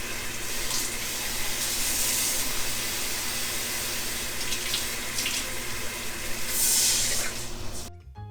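Water from a tap runs steadily into an emptied sauce can, a continuous splashing hiss that rises briefly near the end before it cuts off, with no talking over it.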